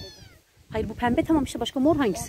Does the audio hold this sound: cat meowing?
yes